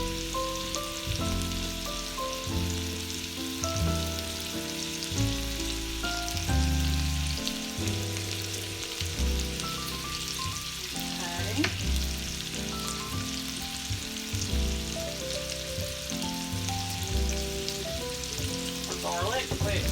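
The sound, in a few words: sausage frying in a pan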